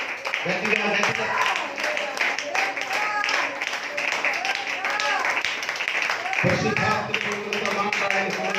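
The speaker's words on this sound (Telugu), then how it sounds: "గట్టిగా చప్పట్లు కొట్టి దేవుని మహిమపరచుదాం." A church congregation claps loudly in praise, dense rapid clapping mixed with voices speaking and calling out over it.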